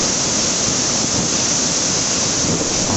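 Loud, continuous roar of water rushing and crashing out of the Somasilla Dam gates, a dense steady torrent with no pauses, close by.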